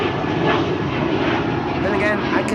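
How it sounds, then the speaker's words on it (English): A business jet rolling on the runway at Amsterdam Schiphol Airport with its thrust reverser bucket deployed gives a loud, steady roar across the whole clip, with a voice talking over it. "The reverse bucket is still deployed, as you can see."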